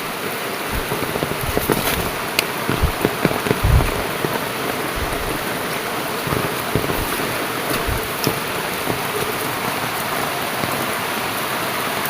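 Heavy rain falls in a loud, unbroken downpour, a dense hiss of drops striking surfaces close by, with scattered louder splats and thuds and no one speaking.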